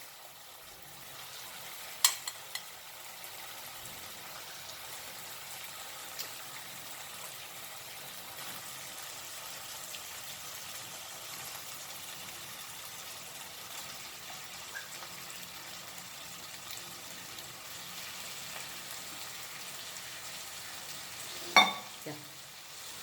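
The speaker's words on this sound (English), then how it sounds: "Now we'll add our cooked meat as the masala is nicely fried." Cooked beef is added to fried Goan masala in a pan, giving a soft, continuous sizzle with a few sharp clacks of a stirring utensil near the start and end.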